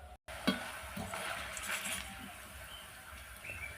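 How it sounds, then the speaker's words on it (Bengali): Banana chips fry in hot oil with a soft, continuous sizzle and bubbling, faint and close, after a short silent gap at the start. "এইভাবে সবগুলো ভেজে নেব"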